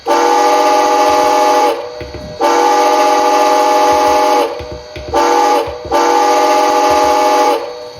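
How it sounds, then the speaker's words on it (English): Standard steam whistle of an HO-scale model steam locomotive blowing four sustained, loud blasts separated by short gaps, a harmonic tone sounding close by and alone. "But this is the standard whistle that comes with it."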